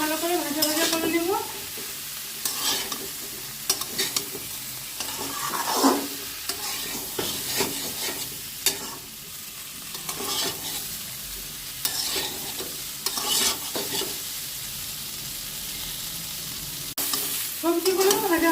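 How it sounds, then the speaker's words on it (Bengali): Mixed vegetables with slit green chillies fry in a pan for mung dal khichuri, a steady sizzle broken by repeated scraping stirs of a spatula, close and moderately loud throughout, with no one talking. "আর একটু ভালো করে ভাজা ভাজা করে নেব।"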